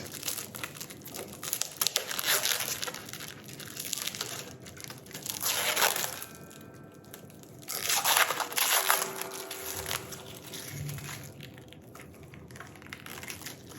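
Plastic wrapping crinkles and tears as it is pulled off a cheap Donner guitar during an unboxing, coming in close, loud bursts of crumpling with quieter pauses between them.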